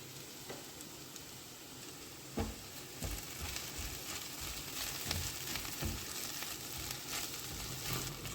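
Okra curry sizzling steadily in a pan, a faint, continuous frying hiss with occasional stirring scrapes and clicks, no talk.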